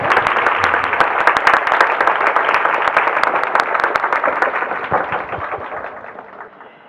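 A hall audience at a women's college event claps in loud, dense applause that holds steady, then gradually fades away toward the end.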